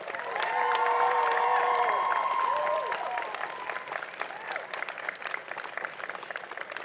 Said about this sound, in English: Please have a round of applause for your pit crew.